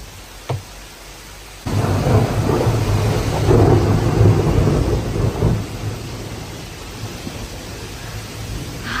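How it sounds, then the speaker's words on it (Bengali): Thunder breaks out as a heavy rolling rumble and slowly fades while steady rain hisses throughout the storm. A brief thud comes just before the rumble. "বিদ্যুৎ চমকাচ্ছে, আকাশ গর্জন করছে"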